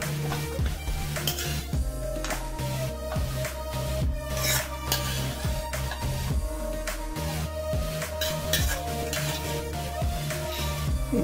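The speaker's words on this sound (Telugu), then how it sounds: "ఇది గ్రైండ్ చేసుకుందాం." An electric mixer grinder whirs loudly and steadily for several seconds as it blends tomato chutney with sesame seeds, with a constant motor hum and rattling, scraping churn close by and no talking.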